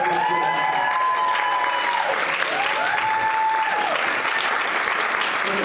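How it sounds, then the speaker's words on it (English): An audience applauds during a Q&A for a short film screening, with loud, sustained, crowded clapping throughout and faint tonal sounds in the background. "Another round of applause."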